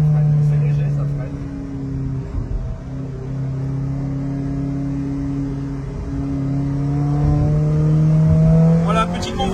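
An Alfa Romeo 4C driving in a Sunday convoy, its engine humming loudly and steadily with a rising pitch as it accelerates near the end, heard from inside the car alongside faint voices.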